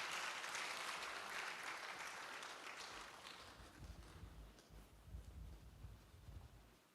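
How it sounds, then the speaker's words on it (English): Audience applause after an introduction for closing remarks at a climate change resilience conference, a broad wash of clapping that fades over several seconds as low rumbling handling noise rises underneath. "A round of applause for him."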